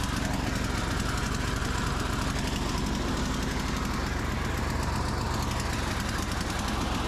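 A Craftsman snowblower with a Tecumseh engine and a new carburetor runs steadily and loudly outdoors in icy conditions, its rough, chugging engine drone continuous and close throughout, with no talking.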